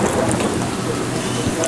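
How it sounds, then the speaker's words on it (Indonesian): Steady rain hisses with low rumbling thunder in Bus Simulator Indonesia, driving around the Bangkalan map, a dense continuous wash of sound without a break. "Dan sepertinya ini tanda-tanda hujan ini, teman-teman."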